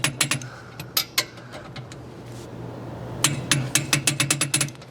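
A torque wrench tightens U-bolts on a Montana 5th wheel trailer, with sharp metallic clicks in two bursts, a few scattered clicks first and then a rapid run of several, over a low steady hum.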